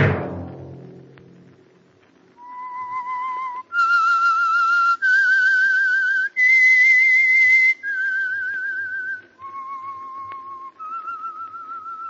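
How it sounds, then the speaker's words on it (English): A long whistled melody, the theme signal of The Whistler radio program, rises and falls in clear sustained notes over about ten seconds, loud and alone with no talk. "Let that whistle be your signal for the Signal Oil program, The Whistler."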